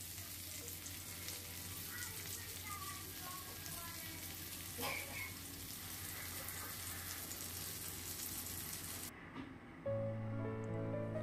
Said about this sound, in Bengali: এরপর মাছগুলোকে এপিট ওপিট করে ভেজে নিতে হবে, তবে খুব কড়া করে ভাজবেন না।